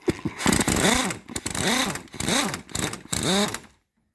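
A power tool gun driving a bolt in and out to clean up its threads, four rising and falling whirring bursts in a row, each swelling up and winding down, close and fairly loud before stopping.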